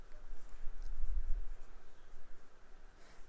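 Pen writing a note by hand on paper, close and moderately loud, with continuous scratchy strokes in uneven bursts and short pauses between words.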